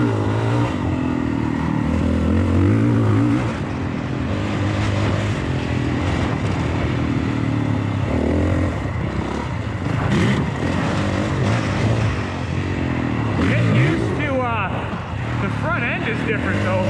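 A new dirt bike ridden along a rough trail, its engine droning and revving steadily throughout, loud and close, with the rider's voice talking over it.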